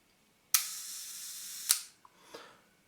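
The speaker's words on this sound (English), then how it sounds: "the shutter actually works, but it's a bit delayed when fire the shutter" Mamiya-Sekor C 127mm f/3.8 lens for a Mamiya RB firing its shutter on a slow setting: a sharp click opens, a steady hiss-like hold follows for about a second, then a second click closes, with faint mechanical ticks after.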